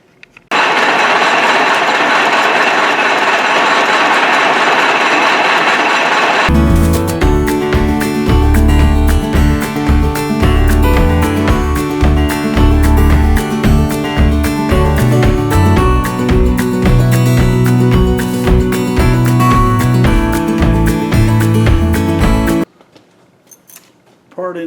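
A cutter in a holder machining a blade arbor down to size, a loud steady mechanical grinding chatter with dense rapid ticks that runs for most of the stretch, then stops abruptly, after a brief quieter machine hum at the start.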